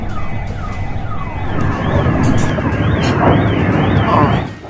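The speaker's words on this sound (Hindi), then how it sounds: "बैकग्राउंड में सायरन का शोर नाउम्मीदी के" An air-raid siren wails in a repeating rising and falling pattern during an attack on Kyiv, steady and prominent over a dense rumble of background noise and distant activity.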